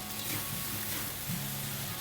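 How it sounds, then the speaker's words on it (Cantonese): Kung Pao chicken raw-fried in a wok, giving a soft, steady, continuous sizzle at low volume with no talking over it. "炒下佢，煎下佢。"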